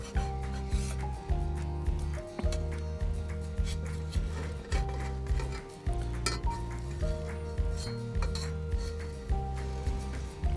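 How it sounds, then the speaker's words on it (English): Eggs being flipped in a skillet over a campfire: steady rhythmic scraping and metallic rubbing of a utensil against the pan, repeating in short strokes over a sustained low hum. "Let's see if I can get them flipped."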